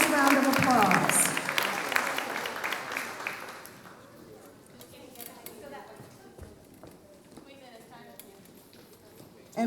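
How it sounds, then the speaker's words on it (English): An audience at a school district superintendent's citation ceremony applauds the honored students, with loud clapping in the first few seconds that thins out and fades to scattered, quieter room noise. "let's give these wonderful students a nice round of applause"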